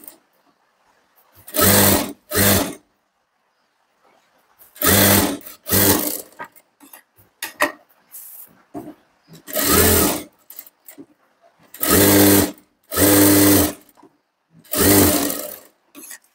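An electric sewing machine stitches a katori blouse in short whirring runs of a second or so, separated by quiet pauses, close and alone.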